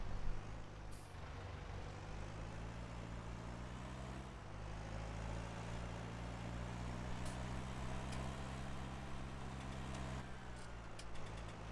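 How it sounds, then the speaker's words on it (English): A steady, low small-tractor engine drone in Farming Simulator 19 runs throughout, its pitch dropping and resettling a few times as gears change, with a brief hiss near the start. "you'll hear the engine shift and the noise will shift on you when it's shifting"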